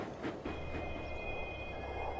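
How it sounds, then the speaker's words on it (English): A train runs along the rails, a steady rumble with faint wheel clatter and a high thin squeal that hold evenly throughout. "He asked his driver to change the points, and the train carried on."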